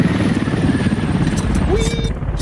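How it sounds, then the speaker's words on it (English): A low-flying helicopter in the Squad combat game roars steadily as a loud, continuous engine and rotor drone, with gunfire-like bursts and player chatter layered over it. "Heli, flying low."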